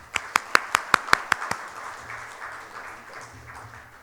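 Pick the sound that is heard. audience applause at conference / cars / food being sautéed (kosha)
audience applause at conference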